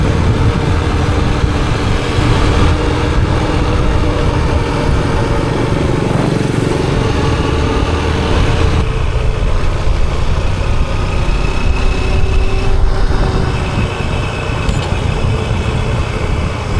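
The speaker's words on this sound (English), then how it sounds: "Engine's running really smooth on that new oil." A Honda XR150L motorcycle runs smooth on fresh oil on a rural province road, its engine a steady close drone throughout with no speech.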